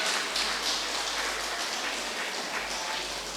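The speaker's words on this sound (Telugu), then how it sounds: "వారు గట్టిగా ఒకసారి క్లాప్స్ చేద్దాం మిత్రులారా" Audience clapping loudly and continuously at a gathering for a vegetarian rally event, a dense steady wash of many hands applauding together throughout.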